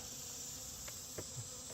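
Honey bees drone faintly at a hive entrance, a soft steady insect hum outdoors with a few brief clicks and bumps close by, no voices.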